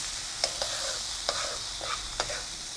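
A steady sizzle of chicken rasam ingredients frying with dried chillies in a pan, with a spoon scraping and tapping every half second or so, close and moderately quiet with no talk.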